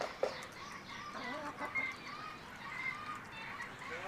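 Backyard chickens, a larger bird pestering a small one, give soft, scattered clucks and short squawks, faint and somewhat distant in a quiet outdoor setting.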